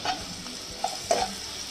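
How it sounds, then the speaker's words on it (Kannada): Finely chopped onions fry in hot oil with a faint, even sizzle and a couple of brief utensil taps, close by and quiet. "ಈಗ ಈರುಳ್ಳಿನ ಚೆನ್ನಾಗಿ ಫ್ರೈ ಮಾಡ್ಕೊಳ್ಳಿ."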